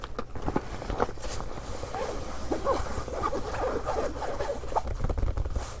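Zippers on a nylon waterproof travel bag rasp close and loud in several quick pulls, with soft fabric rustling between the strokes.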